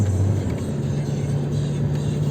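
A Volkswagen Passat diesel engine held at full throttle while its electronics cap the revs, giving a steady, loud, close droning hum that never climbs in pitch.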